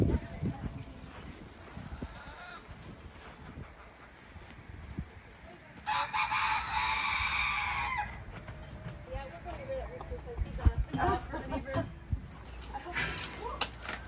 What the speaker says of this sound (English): Oh, you got chickens and yeah.